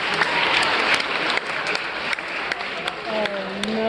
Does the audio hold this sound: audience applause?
yes